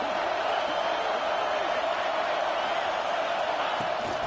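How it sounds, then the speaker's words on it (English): A large football stadium crowd roars continuously in a Florida Gators game during a timeout with the defense in the red zone, a dense sustained wash of cheering noise throughout. "the crowd coming to life here, trying to help this defense down in the red zone"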